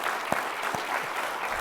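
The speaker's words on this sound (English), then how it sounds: "Let's have a round of applause" Audience at a festival inaugural address applauding, a dense steady clapping from a sizable crowd heard throughout, with a few distinct nearby claps standing out.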